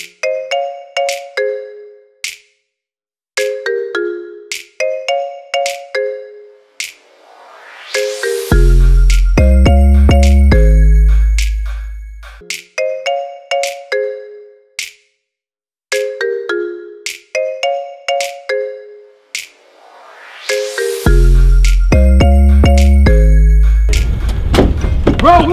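A phone ringtone plays loudly as a rhythmic synth melody with heavy bass sections, repeating in cycles for about twenty-five seconds with brief gaps between phrases.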